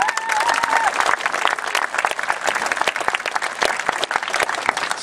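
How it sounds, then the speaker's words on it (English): An outdoor crowd at a Relay for Life cancer event in Two Rivers, Wisconsin claps steadily and loudly for the whole stretch, a dense, even wash of hand claps with a faint whistle near the start. "give all yourselves a hand of applause for coming out today"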